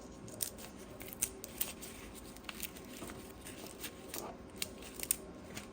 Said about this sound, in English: I'm gonna cut the head off and just try and take the shell off.